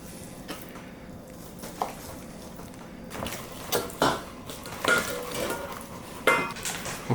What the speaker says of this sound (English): You're going to want to cut it this way against the grain.